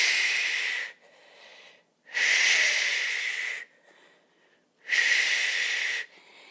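Three forceful breaths during an advanced dumbbell core workout row, each a loud hissing, airy exhale or inhale about a second long, separated by short quiet gaps.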